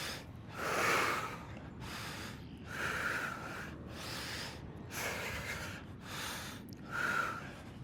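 Repeated forceful exhaled breaths during a yoga twist stretch in a core, hips and squats workout flow, four or five strong breathy bursts at a steady rhythm, close and fairly loud with no talking.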